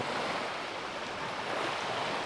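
Gentle, steady wash of calm sea waves at a beach on Swaraj Island in the Andamans, with a soft breezy hiss, no voices.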